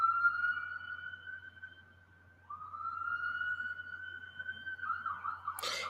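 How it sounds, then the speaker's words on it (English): A police siren wails outside, a sustained high tone that dips and resumes with a rising, wavering pitch, moderately loud at a distance, ending with a sharp brief noise. "Oh, the sirens, the never-ending sirens."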